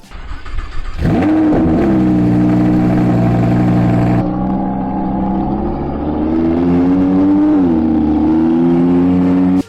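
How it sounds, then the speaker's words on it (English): A Lamborghini Huracan engine growls loudly at idle, then revs up sharply several times with a deep, rich roar, close by and steady. "Huracan Lamborghini, which is amazing and sounds amazing. Here's a little clip."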